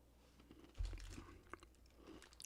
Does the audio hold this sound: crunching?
yes